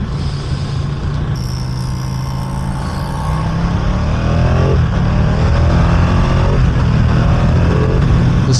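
A Ducati Streetfighter V2 naked motorcycle pulls hard in third gear, its engine note climbing steadily and growing louder toward the end, with wind rush throughout and no voices.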